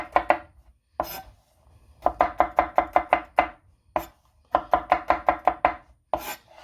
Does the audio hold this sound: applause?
no